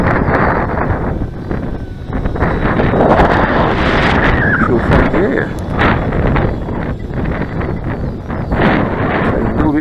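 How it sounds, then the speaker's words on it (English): Strong wind gusts buffet the microphone on a very windy day at a model flying field during a wing's maiden flight, a loud continuous rumble that surges and dips, with a faint motor whine in the background. "A lot of wind gusts around here."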